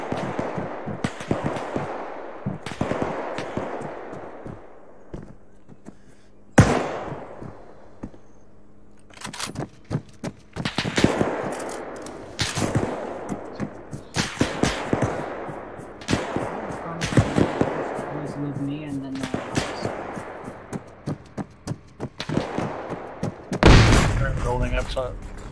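Grenade explosions and gunfire in an Arma 3 World War Two insurgency raid, a long sequence of sharp shots, heavy booming blasts and rapid bursts, some close and loud, mixed with shouting voices throughout.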